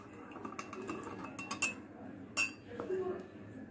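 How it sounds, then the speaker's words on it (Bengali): Metal spoon clinking against a cup while a spoonful of sugar goes into freshly strained orange tea, several light sharp taps scattered over soft kitchen background noise. "এখন এর মধ্যে এক চামচ চিনি দিয়ে দিচ্ছি"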